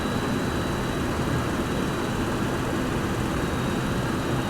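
Boeing 727-100 jet engines in a flight simulator, a steady broadband roar with a faint high whine, constant and loud with no pauses, throttled back on approach to Chicago's Meigs Field.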